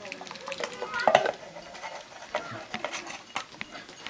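Meat goes into a pot at a traditional Hutsul cheesemakers' hut in the Carpathians. Soft clatters, scrapes and a light stirring sizzle are heard, with a voice talking nearby.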